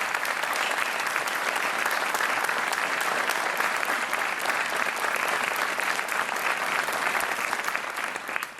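Studio audience applause on the Portuguese game show Joker, thick continuous clapping that stays loud and even throughout before easing off at the very end.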